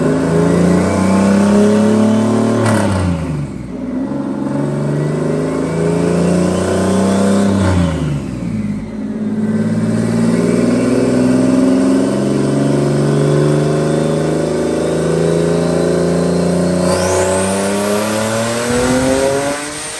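A tuned, boosted Nissan 370Z strains through a loud dyno pull, engine climbing in pitch over and over with brief drops at gear changes before a final high rev, loud and close with no voices.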